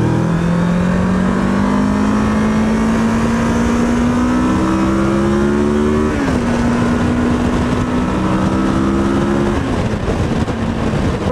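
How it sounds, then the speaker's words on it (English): Kawasaki Versys 650 motorcycle cruising on a highway, its engine droning loudly and steadily with wind roar, pitch rising gradually then dropping at a gear change before climbing again. "we're gonna get on the highway here, start our test on a bit of a faster road to see how this bike likes the highway"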